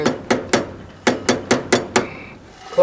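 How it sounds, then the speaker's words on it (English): Hammer blows on the edge of a trailer hub's bearing cap, nine sharp metallic strikes in an uneven rhythm with short pauses, close and fairly loud. "we're just going to hammer on the edge of this cap"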